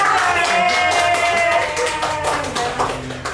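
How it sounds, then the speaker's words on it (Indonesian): Rapid hand clapping rises from a small audience at a talk show about ocean and mangrove ecosystems, the quick claps running under ongoing talk and thinning toward the end. "Tepuk tangan dulu dong."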